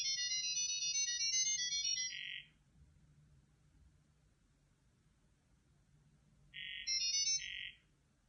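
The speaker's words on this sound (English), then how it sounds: "the smartphones will automatically exchange their contact information using our novel communication stack combining wireless and acoustic messages" Smartphones trade contact details through short bursts of high-pitched acoustic chirps, two clear patterned tone bursts separated by a quiet gap over faint low background hum, with no talking.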